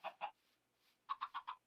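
Chicken clucking in the video game Minecraft SevTech Ages, two short clucks, a pause, then four quick clucks in a row, close and clear over silence.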